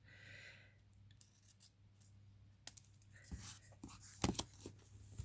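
Quiet snips of scissors cutting paper, a folded teabag-paper Christmas tree, a few sharp crisp cuts toward the end over a low steady hum.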